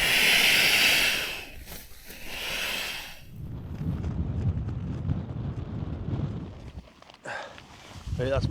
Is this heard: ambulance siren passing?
no